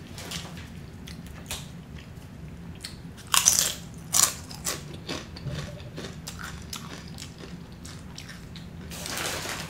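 Crunchy tortilla chips get bitten and chewed up close alongside a vegan Cuban chorizo stew, a few sharp crackling bites followed by softer chewing crunches.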